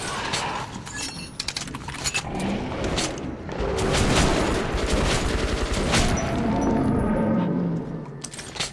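Enemy gunfire in the shooter game Metro: Last Light Redux, a dense, loud stream of rapid shots and bursts that rises in intensity midway and carries on for several seconds.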